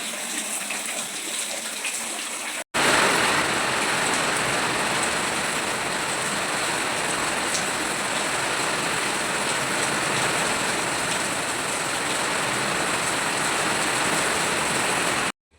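Heavy rain pours down steadily in a village setting, a dense, loud, continuous hiss that swells sharply after a brief quieter opening and holds unbroken with no voices.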